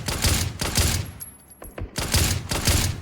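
Loud automatic fire in the video game PUBG: two rattling bursts, a short gap with a few scattered pops, then two more bursts.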